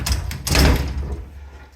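A heavy metal laboratory cabinet door swings shut with a short scrape, then a dull, solid thud, close by in a cluttered indoor space.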